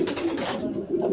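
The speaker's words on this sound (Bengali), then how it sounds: "এই যে পোটার কবুতর" Pouter pigeons on a pigeon farm coo in a low, close, throaty rhythm that fades briefly and then resumes.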